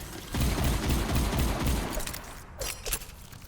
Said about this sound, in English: It's just a solid hit scan weapon that shoots very fast